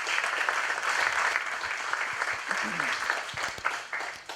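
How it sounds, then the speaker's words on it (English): An audience at a cannabis lighting conference applauds speakers, a broad, continuous roar of clapping filling the room, loud and sustained with scattered voices mixed in. "massive round of applause for these folks"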